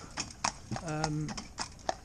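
Hooves of a Friesian cross Andalusian horse in blinkerless traffic training clip-clop in an irregular, close rhythm of sharp knocks, with a voice talking over them partway through.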